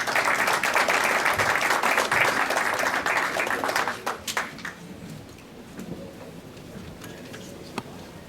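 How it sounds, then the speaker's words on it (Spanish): An audience claps for a conference speaker at a management-doctrine lecture, a dense burst of applause for about four seconds that quickly dies away to scattered claps and room noise. "Un aplauso para él, por favor."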